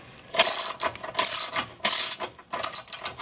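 A ratchet tightens a new nylock nut on an adjustable DeLorean rear suspension, giving four quick bursts of sharp clicking close by with brief gaps between strokes.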